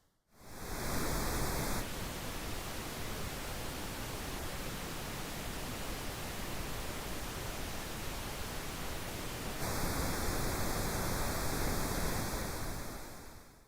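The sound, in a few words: pink noise test signal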